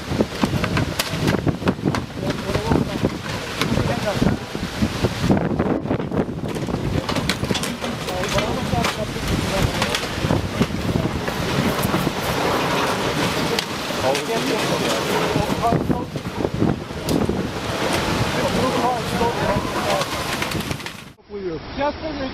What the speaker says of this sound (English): Remnants of Tropical Storm Irene reached New York State, causing chaos at a yacht club on the Catskill Creek.